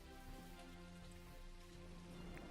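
Steady rain falls in the video game Dinkum, a soft, even patter that stays faint and constant throughout with no voices over it.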